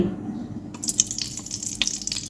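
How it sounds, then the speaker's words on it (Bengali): Cooking oil poured into a pot sitting on a stove, a soft steady pouring hiss that begins partway through and runs on with small splashy flickers, close and fairly quiet. "রান্নার জন্য চুলায় একটি পাতিল বসিয়ে দিয়েছি আর সেখানে দিয়ে দিচ্ছি তেল"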